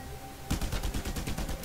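Rapid burst of automatic gunfire in the video game Just Cause 2, a dense rattling volley starting after a short hiss of background noise and continuing to the end.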